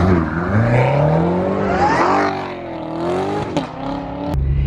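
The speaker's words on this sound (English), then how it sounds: "That Z06 sounds so sick." A Corvette Z06 engine roars loudly during a street race, its pitch climbing and sweeping through several gears with sharp shift breaks, close and dominant with no talking.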